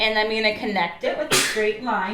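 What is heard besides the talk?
sneeze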